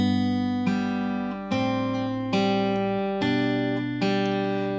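Acoustic guitar picking the opening bar of a song, paired notes on two strings alternating with a single note, five clear plucks in a steady rhythm, close and alone.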